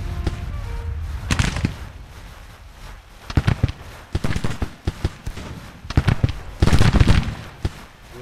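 Rifle fire in Grand Tactician, a Civil War–era battle, crackles in scattered bursts and irregular volleys of sharp pops, some clustered, with quieter gaps between.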